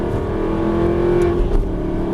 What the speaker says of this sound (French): les gaz à fond, c'est parti. On monte bien en régime.